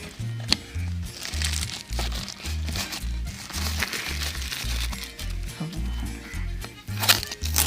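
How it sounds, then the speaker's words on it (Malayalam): A boxed water pump is unpacked: continuous crinkling and crackling of packaging and cardboard, with rhythmic low thumps underneath, close and moderately loud throughout. "അപ്പോൾ അതൊന്ന് അൺബോക്സ് ചെയ്ത് നോക്കാം."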